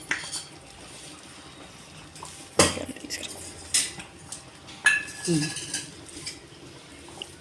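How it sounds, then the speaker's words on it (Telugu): Metal spoon and utensils clinking against a pot while a spoonful of oil goes in during vadiyalu preparation, a few sharp clanks and scrapes spaced out in a quiet kitchen, with faint background voices. "ఒక స్పూన్ ఆయిల్ వేస్తున్నా"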